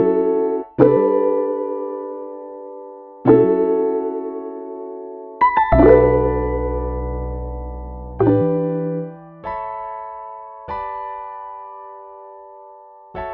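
Soft synth melody from the Spawn VST plugin: a handful of sustained, bright tonal notes and chords that start and fade one after another, with a fuller, deeper chord swelling in the middle, played alone without talk.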